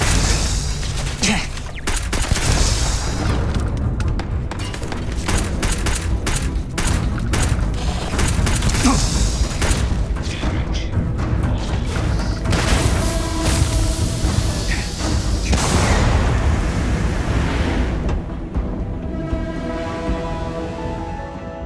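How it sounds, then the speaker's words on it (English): Rapid bursts of gunfire and booming impacts in the sci-fi video game Starfield, dense overlapping shots and thuds continuing for a long stretch, with a voice talking over parts of it. "gunshots going."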